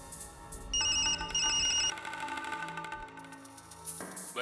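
A phone ringtone plays loudly in two bright electronic bursts, then fades under a steady musical background.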